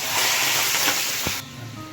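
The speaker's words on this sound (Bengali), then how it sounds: "মোচার ঘন্ট বানানোর জন্য কিছুটা তেল গরম করে নিয়েছি। তার মধ্যে প্রথমে ভেজে নেবো হচ্ছে কাঁচা ছোলাগুলো।" Raw chickpeas hiss and sizzle steadily in hot oil in a pan, loud and close, with a brief stirring scrape before the frying noise drops away.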